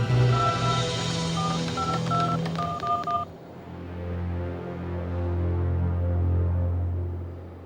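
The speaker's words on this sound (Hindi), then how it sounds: "तुम डॉक्टर के घर पे फोन लगाओ," A telephone number is keyed in on a phone, a quick run of distinct dialing tones over a low hum before the tones stop and a soft throbbing drone carries on.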